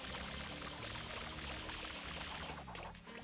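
Water gushes continuously into the FLUDD water pack in Super Mario Sunshine, a steady pouring stream over game music, fading near the end.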